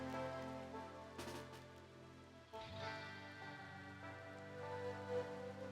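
Steady rain falling in a video game, a continuous soft patter with no clear gaps, quiet throughout with a brief dip midway.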